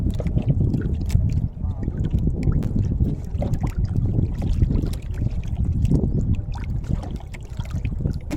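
Strong wind roars across the microphone while rough waves slosh and splash continuously around a small boat at sea.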